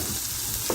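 Onions dropped into a hot pan while cooking Asian shrimp noodles give a brief burst of sizzling and frying, close and steady.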